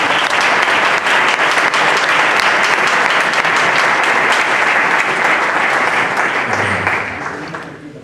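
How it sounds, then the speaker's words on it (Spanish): A congregation at a church workers' meeting breaks into loud, sustained applause, a dense wash of many hands clapping that holds steady for several seconds and then fades away at the end. "Da un aplauso para Jesús."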